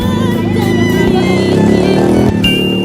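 A motorized pedicab (becak motor) engine runs steadily and loudly at a temple complex in Jambi, a continuous close droning hum with some rising revs near the end.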